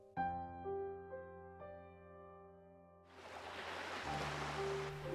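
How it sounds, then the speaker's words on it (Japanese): Night beach in the Brothers Conflict video game: soft sustained music tones give way to a steady hiss of ocean waves washing in, gentle and even while the music lingers faintly. "波の音に乗せて柔らかい風が吹いていた。"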